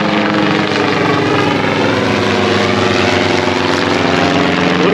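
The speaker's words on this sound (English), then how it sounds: "helicopters looming above" A helicopter flying low overhead above an RV park, a loud, constant rotor roar with a droning engine whine filling the whole stretch, close and unbroken, no voices.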